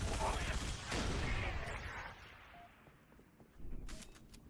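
Assault rifle fire in the video game Halo ODST: a loud stretch of rapid automatic shots that fades into a decaying tail, then a further burst near the end.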